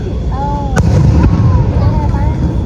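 Fourth of July fireworks heard outdoors, one sharp loud bang followed by a second burst and crackling rumble, with whistling streaks and a voice speaking over the crowd noise.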